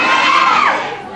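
A crowd of fans screams loudly and continuously, a dense high-pitched roar that fades slightly toward the end.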